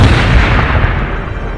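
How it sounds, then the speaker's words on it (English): Grenade blast in the Warhammer Battlesector video game: one loud, close, booming explosion with a heavy low rumble that rolls and slowly decays, no voices over it. "Throwing grenade!"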